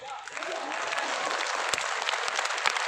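Steady applause from a seated audience at an RCM Academy gathering, dense continuous clapping that holds for the full few seconds with a faint crowd murmur underneath.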